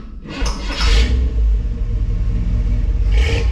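1961 Chevrolet wagon with a small block V8 revs up with a deep rumble, swelling in a couple of throttle blips over a steady low idle, close and loud with no talking.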